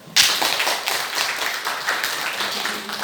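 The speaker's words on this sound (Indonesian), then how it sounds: "Oke, tepuk tangan." Students clapping hands in a classroom, a sudden burst of scattered, fairly quick claps that continues steadily for a few seconds.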